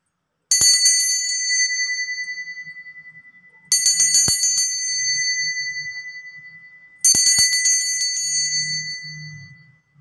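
A bell rings three times as a start signal, each strike a bright, clear ding that decays slowly over about three seconds, spaced evenly apart, loud and alone with only faint background murmur.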